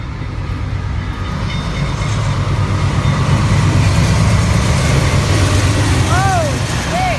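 A night local train passes with a loud, steady rumble and rolling rail noise that fills the whole stretch. A few brief high chirps rise near the end.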